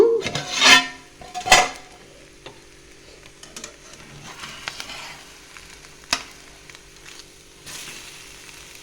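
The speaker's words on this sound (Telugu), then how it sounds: "రెండు వైపులా వేయించుకుందాం, మగ్గనిద్దాము." Gentle, steady sizzling of an omelette frying in a pan, with a couple of louder bursts early on and occasional light clicks of utensils.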